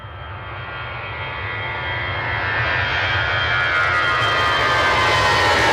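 An ATR 42 turboprop at Manchester Airport gives a broad, steady engine roar that swells gradually louder over several seconds as it nears, with no voices.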